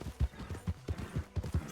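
Horse hooves clip-clopping in the Western roleplay game RedM, a quick uneven run of about a dozen hoofbeats, close and clear with no voices over them.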